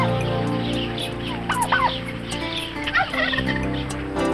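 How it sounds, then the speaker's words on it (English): Several turkeys gobble in quick, rattling bursts over a steady background of farmyard noise, the calls close and fairly loud, with a couple of separate gobbling bouts and no one speaking. "Turkeys are the only farm animals bred from North American wildlife."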